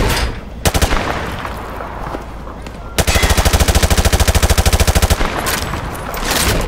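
Automatic weapon fire punching through light cover in Call of Duty: Modern Warfare 2 Remastered, a short burst followed by a long, steady rapid-fire stream of loud, close shots, with a brief quieter gap between them.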